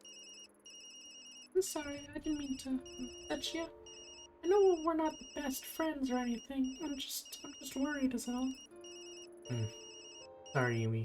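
A phone rings in the Tokyo Dark video game: a repeating electronic ringtone of bright beeping tones pulses steadily throughout, while voices talk over it.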